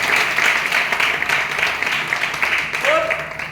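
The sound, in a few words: audience applause at meeting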